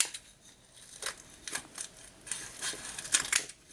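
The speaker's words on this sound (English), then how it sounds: "I'm just going to cut away the rest of my mesh" Scissors snip through deco mesh in a series of crisp, separate close cuts with short pauses between, quiet and alone with no talk.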